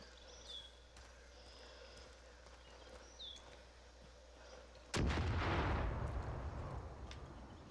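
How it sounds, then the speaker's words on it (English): A single loud gunshot booms in the Far Cry 5 video game and its echo rolls out over a quiet outdoor scene, following a few faint bird chirps and a low background hum. "Like I'm being like sniped at or something."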